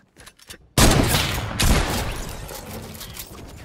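A gunshot in a competitive shooter video game, a sudden loud crack bursting into a long rolling echo that fades slowly, following a few faint clicks.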